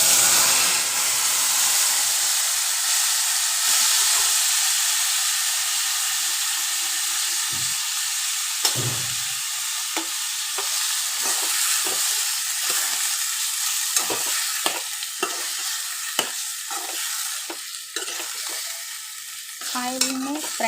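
Tomatoes and a lemon-sized lump of tamarind fry in oil with a steady loud sizzle and hiss, broken by repeated scraping stirs near the pan; no talking.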